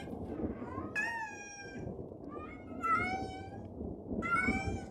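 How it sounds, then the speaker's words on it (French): A cat meows several times in drawn-out, wavering calls, fairly close against a low rumbling background, with no speech. "Oh, un chat."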